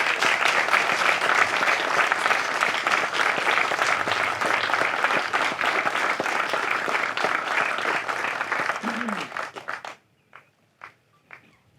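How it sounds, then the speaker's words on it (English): A dense round of audience applause fills an outdoor renaming ceremony at The Quarry at Grant Park, steady and loud for about ten seconds before cutting off abruptly, followed by a few scattered, isolated claps. "let's give you a round of applause"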